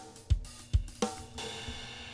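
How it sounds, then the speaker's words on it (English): Session Kit studio drummer drum kit played dry: a few punchy kick and snare hits spaced about half a second apart, followed by a brighter hit and a sustained cymbal-like wash, fairly quiet and without talk. "And it's session kit, studio drummer."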